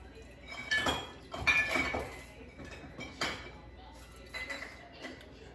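Mead ingredients being stirred and mixed in a container, giving several close, irregular clinks and scrapes of utensil against vessel in short bursts, with quiet pauses between them.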